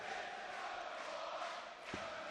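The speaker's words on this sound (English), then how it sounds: "the crowd chant his name as he pins the winning double" Darts crowd at the 2019 European Darts Grand Prix chanting Vincent van der Voort's name after his winning double: a dense, steady roar of many voices with a sustained chant tone, no pauses.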